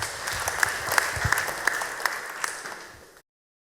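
An audience at a Christian church gathering claps in a round of applause, a steady patter of many hands with a few sharper claps standing out, then the sound cuts off abruptly.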